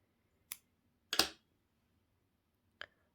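Scissors snip a crocheted chain of thread for Turkish needle lace trim: three brief, crisp cuts with gaps between them, the middle one longest, close and quiet in an otherwise silent room.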